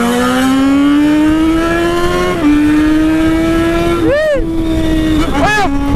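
A BMW 320 turbo car drives hard through a corner, its engine note loud and close, climbing steadily, dipping at a gear change, then sweeping through two quick revving swoops with wavering pitch.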